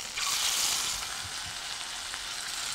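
Gnudi, delicate little dumplings, frying in butter in a pan, giving a steady close sizzle throughout with a few soft taps as they are placed, and no talking.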